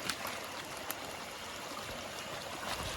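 Natural spring water streams and trickles steadily at a farm house, a continuous close rushing with small splashes and no voices.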